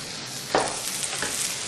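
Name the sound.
mashing potatoes and spinach with a masher and spoon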